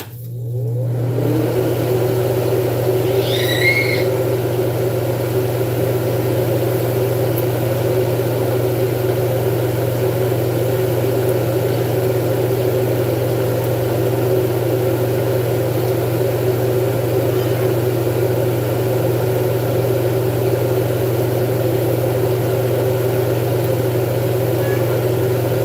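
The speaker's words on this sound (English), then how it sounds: "Again, I'm going to go ahead and turn on the vent." A kitchen vent fan switches on and settles into a loud, constant droning hum with a steady motor tone that carries on unchanged, with no one speaking.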